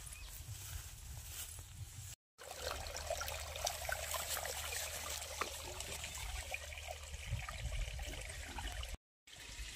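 Water pours through a breached irrigation channel carrying flow toward a home, a continuous trickling and gurgling stream heard close up with no talking.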